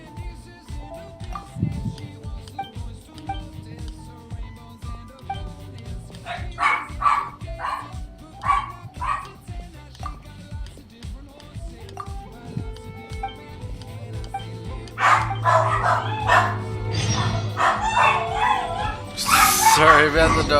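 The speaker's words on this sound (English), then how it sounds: "Sorry about the dogs." Several dogs bark and yip in bursts in the background of a room, with talk and other indoor noise running underneath throughout.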